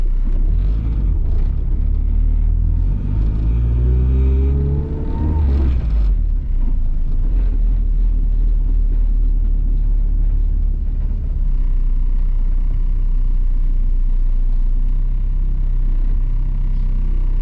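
Turbocharged Honda Civic EK running on E85, a loud close engine rumble under way with rising revs in the first seconds, then a steady droning cabin roar with wind buffeting.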